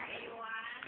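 A house cat gives a single drawn-out, whiny meow, close and fairly quiet, lasting under a second.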